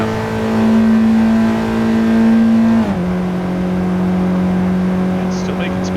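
A 2026 Honda Prelude hybrid accelerating on a California highway, its steady engine drone climbing in pitch, dropping briefly and then settling into a held tone, with someone talking over it from inside the cabin.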